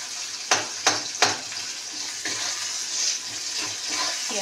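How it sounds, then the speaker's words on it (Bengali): Sliced onions fry in hot oil with dried chilli and a little salt, a steady sizzle broken by a few sharp crackles and stirring sounds near the start. "চলুন পেঁয়াজটা ভাজা ভাজা হোক"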